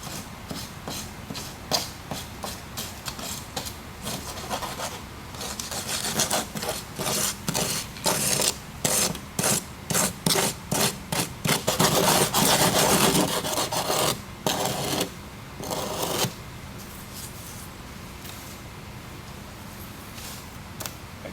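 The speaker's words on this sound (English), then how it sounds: "Strike off your mold." Excess material is struck off the top of a cylinder mold with a rapid series of rough, rasping strokes, close and steady, speeding into a dense run before trailing off into a softer scrape.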